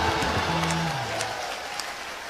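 An audience claps together in a brief burst of applause, dense and close, that fades out within about two seconds, with a faint voice underneath at the start.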